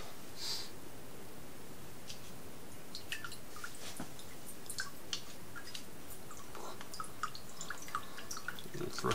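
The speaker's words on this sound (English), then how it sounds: "I may have to pour it through twice depending on how the coffee comes out." Coffee drips and trickles through a homemade disposable camp coffee filter, faint soft irregular drips and splats, close by over a quiet background, with no talking.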